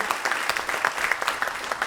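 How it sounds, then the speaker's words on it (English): Scattered applause at a World Elder Abuse Awareness Day community gathering in Brockton, a few seconds of moderate clapping with individual claps standing out. "We go ahead, give a round of applause."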